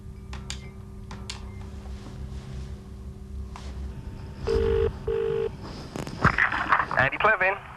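A telephone dials and rings: a steady line tone, then two long ringing tones, followed by a burst of touch-tone dialing beeps, with someone speaking at the start.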